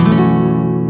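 Strings on an acoustic guitar struck with a medium pick ring out together as a loud, close, bright chord that sustains evenly and fades slowly over about a second.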